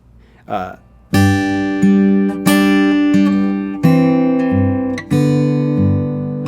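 Fingerstyle acoustic guitar plays the closing phrase of a song, with a brief soft lead-in followed by a string of clear, ringing plucked notes and chords, each sustaining and decaying, close and alone.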